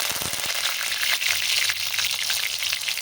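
Garlic and curry leaves fry in hot oil for vangibath, giving a dense, steady, close crackling sizzle with small popping bursts throughout. No voice is heard.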